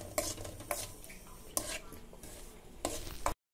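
A utensil scraping and stirring wheat flour frying in a pan over a medium flame, in repeated bursts, with a light sizzle underneath and occasional metallic clinks.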